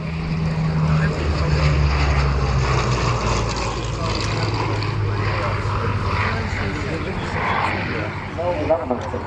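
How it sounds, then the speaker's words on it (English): A Spitfire propeller fighter flying a display at an air show, its engine a continuous droning roar with steady low tones, heard over crowd noise and nearby talking. "That's the classic Spitfire display."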